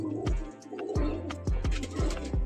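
Pigeons of a high-flying breed coo at a loft in Barnala district, Punjab, a repeated run of low throaty coos close by, with faint chirps and soft noise between the calls.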